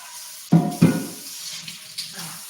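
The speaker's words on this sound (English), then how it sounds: "now I gotta wash the pot out." Tap water splashes into a pot being washed out in a home kitchen sink, opening with two sharp bursts and then settling into a softer, uneven trickle, close by and with no talking.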